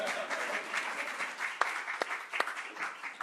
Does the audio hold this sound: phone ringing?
no